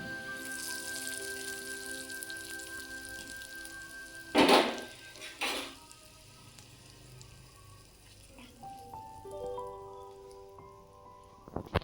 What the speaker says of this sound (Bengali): একটু নেড়ে নিয়ে ডালের উপর ঢেলে দেব